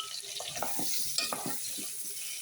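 Oil and butter sizzle in a pan for a chicken stew, a close, steady hiss broken by light stirring clatter and utensil taps.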